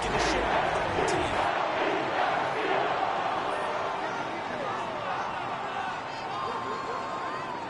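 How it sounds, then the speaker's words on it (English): Home crowd in a Madden Ultimate Team football video game roaring and clapping after a win, a dense, steady wall of cheering and applause that stays loud throughout with babble mixed in. "And the home crowd applauding."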